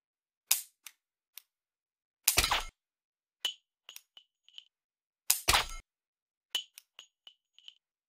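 Laser dry-fire pistol shots during target plinking: several sharp, isolated snaps spaced seconds apart, each followed by small electronic beeps and clinks, close and clear against near silence.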